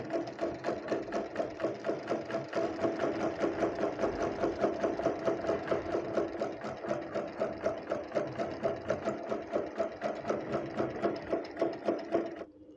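A sewing machine stitches folded kameez fabric in a rapid, even mechanical chatter, running continuously close by for about twelve seconds before stopping abruptly.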